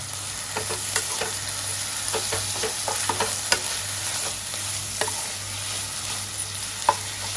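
Prawn masala sautés in a pan in Koli style, a steady close sizzle running throughout with light, irregular scrapes and taps of a stirring spoon, and no voices.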